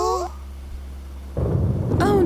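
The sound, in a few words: thunder before rain in cartoon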